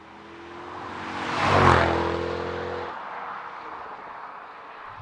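Mercedes-Benz S63 L AMG passing outside, its engine rumble swelling to a loud peak as it nears, then fading into a steady lower drone as it pulls away; no talking.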